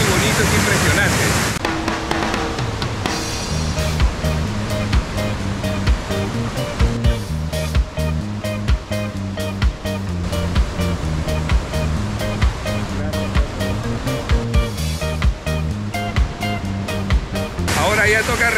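A waterfall near Canta Obrajillo, seen from a narrow viewpoint, gives a continuous rushing roar of falling water under music and occasional voices throughout.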